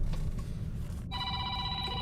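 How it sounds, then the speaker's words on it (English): A telephone bursts into a loud, steady electronic ring partway through, sounding close over a low rumbling background. "Phone call, that's loud."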